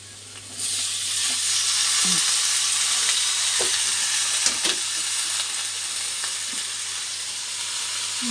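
Snake gourd and shrimp frying with turmeric in a pan give a loud, steady sizzle that starts abruptly and holds for several seconds, with a few soft stirring knocks underneath.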